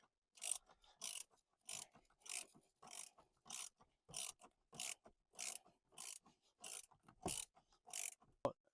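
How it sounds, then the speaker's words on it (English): A ratchet wrench backs out a bolt from a center console Molle cage in a Rivian R1T/R1S, producing about a dozen evenly spaced bursts of clicking, close and quiet, with no talking. "Now that we got the bolt removed, we'll set that aside."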